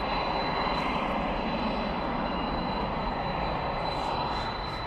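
A UPS cargo plane, Flight 9787 bound for Austin, moves at night at Dallas/Fort Worth International Airport, its jet engines giving a loud, steady, continuous roar with no break.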